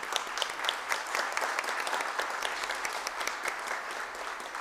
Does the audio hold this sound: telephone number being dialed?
no